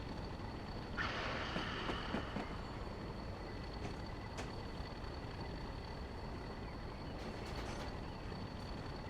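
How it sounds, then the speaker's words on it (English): A low, steady rumble of a vacuum-braked train in a train simulator game running with a hiss of brakes near the start, a faint tone lingering throughout and a few light clanks. "I love the brake sounds as well."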